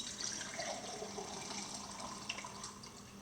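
Water pours steadily into soil for a percolation demonstration on leaching and groundwater, a soft continuous trickle and splash running close by throughout, with no talk over it.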